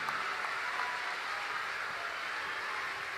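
A large crowd at a Hindu religious katha gathering claps continuously, a dense, even wash of applause that holds steady at one loudness throughout.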